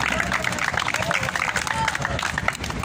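Audience applauding at a youth league championship ceremony, dense steady clapping mixed with crowd babble, sustained for the whole stretch.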